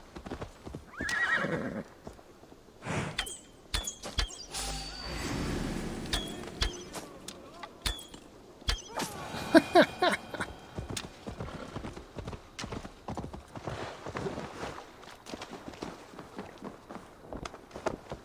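Horse hooves clip-clop steadily through a crowded outdoor scene in Assassin's Creed Valhalla, with several loud whinnies and neighs breaking in near the start and middle over busy game ambience.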